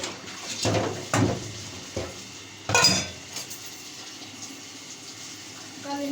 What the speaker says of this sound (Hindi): ये हो जाए तो मैं यहाँ से बर्तन धो लूँ